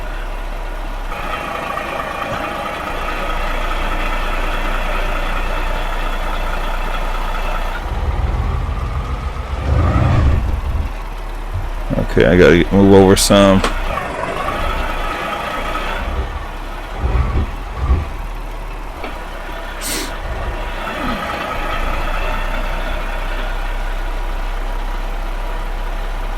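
A Peterbilt truck with a GTM 567 engine in a truck simulator game runs with a steady, loud engine drone throughout. A short remark from a man sits over it, and the engine rumble grows busier and louder midway through.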